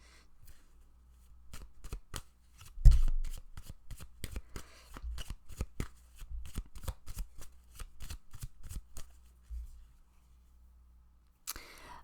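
Tarot-style reading cards being shuffled and drawn: a long run of crisp, rapid riffling flicks up close, steady and rhythmic, then a pause and one final brief rustle.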